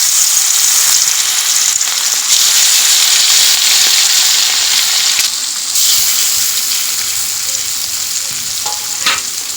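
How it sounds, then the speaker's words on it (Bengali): Fish fries in hot oil in a wok with a loud, continuous hissing sizzle that stays strong throughout, plus a few faint clinks near the end. "গরম হয়ে গেছে, এখন মাছগুলো দিয়ে দিবে।"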